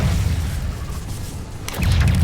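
A Confringo spell blast explodes in the wizarding game Hogwarts Legacy, a deep booming rumble followed near the end by a sharper crackling burst with low thud.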